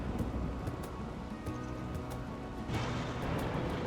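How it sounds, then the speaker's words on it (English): Steady rain pours in the RimWorld video game, a dense continuous hiss that grows slightly louder partway through, with no voices over it. "It's still above freezing, so we're getting rain now."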